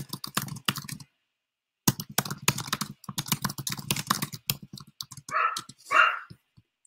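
Rapid typing of a note on a computer keyboard, close and clear, in quick clattering bursts with a short pause, followed by a couple of brief dog-like barks near the end.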